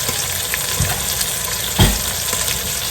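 Half an onion and four banana peppers, red and orange, fry in a deep pot, giving a steady close sizzle with one louder stirring clatter partway through.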